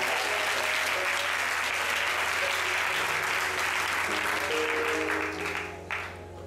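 A church congregation applauding together, a dense, loud and sustained wash of clapping that fills the space and tapers off slightly near the end.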